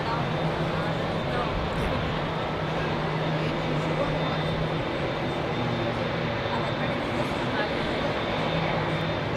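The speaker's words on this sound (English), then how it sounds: "Lizzie Wright, 594 mile an hour that 747 was going." A Boeing 747 departing Heathrow Airport, a continuous loud jet engine roar that holds steady across the whole stretch, broadband and rumbling with a faint high whine on top.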